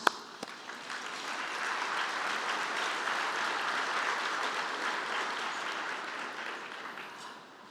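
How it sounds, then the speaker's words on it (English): An audience at the Texas Business Hall of Fame induction dinner breaks into applause, a broad steady clapping that swells and holds before tapering off, heard from a distance. "And we applaud that."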